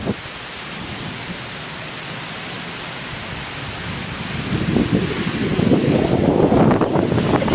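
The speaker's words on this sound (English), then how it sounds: "You could see the wind blowing the rain." Storm wind driving rain outdoors, a steady hiss of rainfall that swells into louder rushing gusts toward the end, close and without voices.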